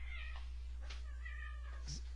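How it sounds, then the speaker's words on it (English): Pet cats fighting indoors, with sharp, loud meows and a rising yowl rippling through the short scuffle; no one talks. "let's pause it, my cats are fighting"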